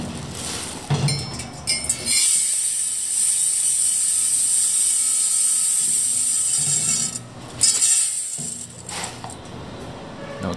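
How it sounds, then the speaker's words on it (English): An automatic pillow bag packing machine with a spiral dosing filler runs with rice, giving a loud, continuous mechanical whir and rattle with a few clunks near the start and end. "we are going to test this filling machine"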